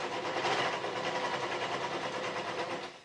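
A serger stitches the last seam of a T-shirt hoodie in a fast, continuous whirring hum that stays steady and close for about three seconds.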